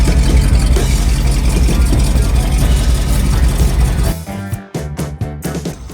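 A 1978 International Loadstar 4x4 truck engine running with a new exhaust, a loud, steady low rumble close up that cuts off after about four seconds, leaving a few faint knocks and clatters.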